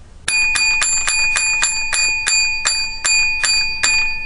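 A bell rings about ten times in a quick, even series, bright and close, with nothing else heard.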